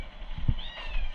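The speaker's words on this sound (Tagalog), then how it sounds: "Baby pusa." A baby kitten gives one short, close meow, standing out faintly over a low background hum.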